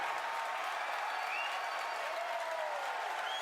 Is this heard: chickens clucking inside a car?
no